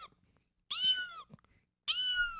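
A man imitates a kitten's meow, giving two high, thin mews close to the microphone with a soft breath between them.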